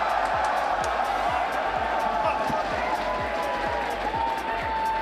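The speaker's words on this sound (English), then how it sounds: "I want you to cheer if you hate Weekend" A live crowd at a SMITE esports creator showmatch cheers loudly and steadily for several seconds. Regular deep thumps pulse underneath the roar at a steady beat.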